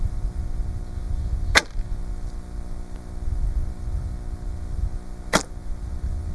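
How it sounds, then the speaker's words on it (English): Two arrows are loosed from a hunting bow, the first with five spare arrows gripped in the bow hand and the second without. Each gives a single sharp, close snap, about four seconds apart, over quiet outdoor background. "I'll shoot one with the 5 arrows in my hand and then one without"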